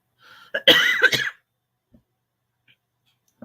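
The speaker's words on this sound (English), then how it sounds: "I hate coughing" A short burst of close coughing, two or three harsh hacks in quick succession, then near silence with a few faint clicks.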